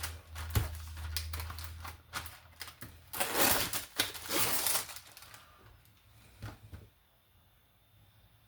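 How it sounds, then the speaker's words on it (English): Vegetables (red pepper, yellow pepper, onion and red onion) being cut on a board, a series of close knife taps and chops that cluster in bursts, with a steady low hum underneath and a quieter tail. "And let's cut up some vegetables."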